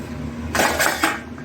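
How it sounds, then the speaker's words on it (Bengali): A spoon stirring bottle gourd and lentils in a cooking pot, a brief scraping, clattering burst close by, over a quiet background hum. "এবার একবার নাড়িয়ে নেব।"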